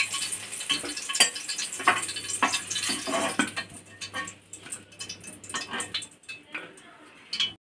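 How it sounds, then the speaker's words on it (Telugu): Green chillies fry in a pan with a soft sizzling hiss, punctuated by clinks and scrapes of a stirring spoon against the metal, close by, while a voice talks over it. "పచ్చిమిరకాయలు ఇలా వేయించుకొని పక్కకు తీసుకోవాలి."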